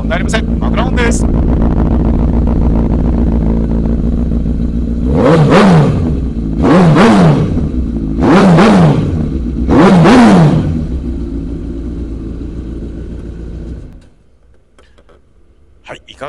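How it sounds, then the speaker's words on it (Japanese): Honda CBR1000RR SC57 sport motorcycle with a center-up Yoshimura exhaust idling steadily, then four sharp throttle blips rising and falling in quick succession, close and loud, before the engine cuts off. "マフラー音です。"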